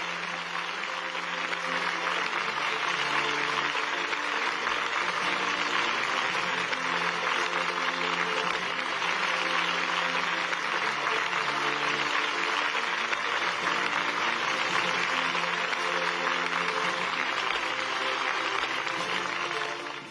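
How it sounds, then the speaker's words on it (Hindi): An audience applauds at a live government event in Indore, giving dense, loud, continuous clapping that lasts about twenty seconds without a break. "तालियां जोरदार बजाएं"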